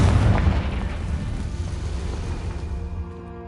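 A Confringo explosive spell goes off in Hogwarts Legacy, a loud booming blast with a deep low rumble that stays dense and slowly fades over a few seconds, with no voices.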